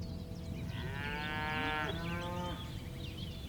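A sacred cow roaming a busy Nepal street gives one long, drawn-out moo, rising then falling over about two seconds, close and clear above a steady murmur of street noise.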